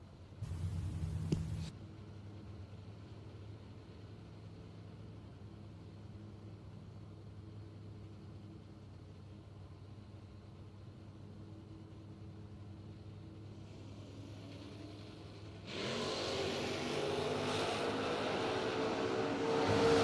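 Drag racing cars launch down the strip at a Labor Day event: a low engine rumble idles for most of the stretch, then swells into a loud, roaring blast of engine noise toward the end.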